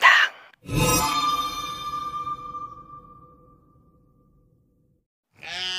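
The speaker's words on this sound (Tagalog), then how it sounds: "Pumapasag ang tupa habang papalapit sa butas. Tila takot na takot ito." A frightened, struggling sheep being lowered in a crate toward a hole gives a short grunt, then a long, loud, close bleat that trails off. After a silent pause, another cry begins.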